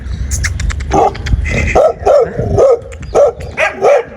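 A female dog with her puppies barks repeatedly at close range, a run of sharp yappy barks with short gaps, some whimpering tones mixed in.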